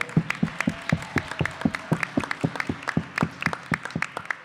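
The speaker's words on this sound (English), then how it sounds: "Round of applause to everyone." A crowd at a Winnipeg rally claps steadily for several seconds, with distinct individual claps forming a moderately sized round of applause.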